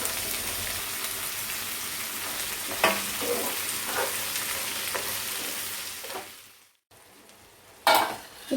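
Bottle gourd seeds sauté in a hot pan with a constant close sizzle and occasional stirring scrapes. The frying drops almost to silence briefly near the end, then bursts back loudly.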